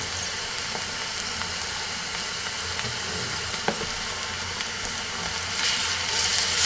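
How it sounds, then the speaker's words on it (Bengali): Sliced onion frying lightly in a pan for a chicken and peas curry, giving a steady soft sizzle and crackle that runs the whole time, with a few faint stirring clicks and a slightly louder hiss toward the end. "পেঁয়াজটাকে আমি একটু হালকা ভেজে নেব।"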